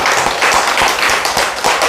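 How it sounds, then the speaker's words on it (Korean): Church congregation clapping hands together, a steady dense wash of many hands that stays loud and even throughout without any talking. "박수로 하나님께 영광."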